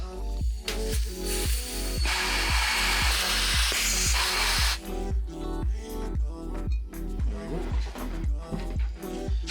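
Compressed air at about 25 psi blowing out a seized brake caliper piston on a BMW E36, a loud steady hiss with a stronger burst in the middle, over rhythmic low thumping music.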